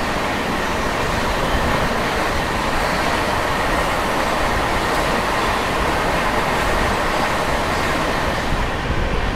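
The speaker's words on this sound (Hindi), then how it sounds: "दोस्तों सामने से आती हुई कोटा पटना एक्सप्रेस वाया सुल्तानपुर।" The Kota Patna Express passes on a line in India with a loud, steady, close rumble and rattle of wheels and carriages. The roar holds constant throughout, with no voices.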